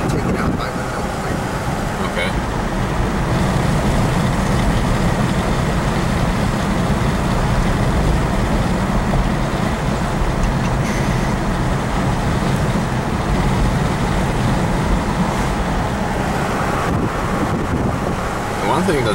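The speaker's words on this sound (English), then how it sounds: "Now driving down the streets." A car rolls along the residential streets of Grosse Pointe Park in Detroit, with a steady close road and wind roar that holds at an even level throughout, with no talk over it.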